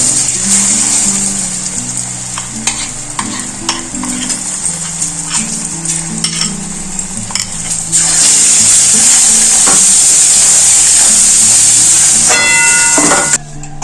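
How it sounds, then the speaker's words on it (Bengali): Green peas hitting hot oil seasoned with nigella seeds and asafoetida, a loud, close, steady sizzle and hiss with intermittent stirring clatter, swelling stronger toward the end. "মটরশুঁটিটা দিয়ে দেবো"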